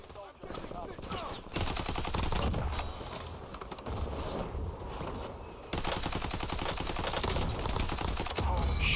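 Rapid bursts of automatic gunfire in the shooter game Warzone, loud and dense, continuing in clustered volleys over a steady game soundscape.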